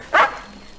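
One short, sharp dog bark sounds nearby, loud and brief against a quiet background.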